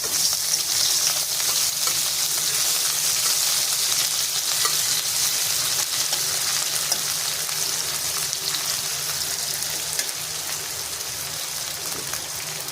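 Onions frying in oil in a pan for an okra curry, a steady, dense sizzle close by, continuous throughout with no one speaking.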